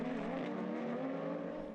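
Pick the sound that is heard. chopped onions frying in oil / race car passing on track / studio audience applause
race car passing on track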